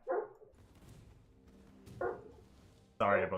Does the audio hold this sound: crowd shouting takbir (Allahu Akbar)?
no